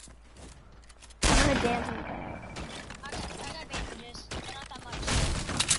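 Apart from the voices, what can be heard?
gunshots in a video game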